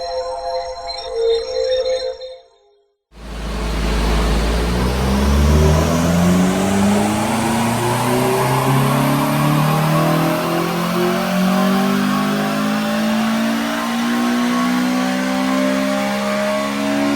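A Honda Civic FN2 Type R with a modified exhaust fires up after a short burst of other sound, then climbs through a long, loud, steadily rising rev, close by with no talk.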